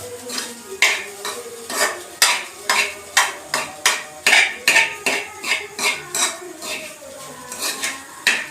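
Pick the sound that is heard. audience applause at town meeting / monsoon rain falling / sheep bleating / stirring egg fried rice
stirring egg fried rice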